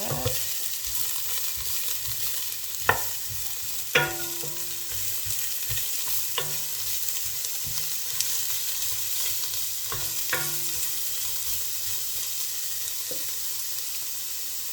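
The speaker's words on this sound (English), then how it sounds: "the red pepper, give it a little stir." Chopped red pepper and carrot frying in a pan for a vegan kale miso soup, with a soft constant sizzle and a few distinct scrapes of a utensil stirring, close and without any voices.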